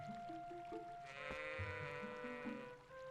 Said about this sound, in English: oh, we can pet the goat.